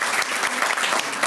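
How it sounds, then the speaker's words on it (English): An audience at a garden club scholarship event applauds steadily, a dense, even patter of many hands clapping close by for the whole short stretch. "I think you need to give yourselves a round of applause"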